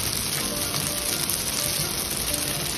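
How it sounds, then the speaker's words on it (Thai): Sauce goes into pad thai with fresh shrimp frying in a wok, producing a steady, loud, hissing sizzle that fills the whole few seconds with no talking. "ใส่น้ำซอสเลยนะครับ"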